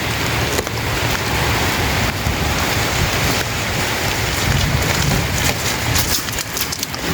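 Heavy rain pours down in a dense, constant hiss at close range, with steady drumming on surfaces and no talk.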